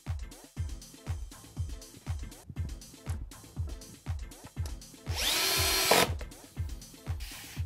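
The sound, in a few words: power drill driving Euro screws to fix wardrobe runners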